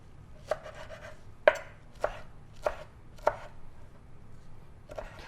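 A knife chops cilantro on a cutting board in about six sharp, evenly spaced knocks, close and clear over a low background hum.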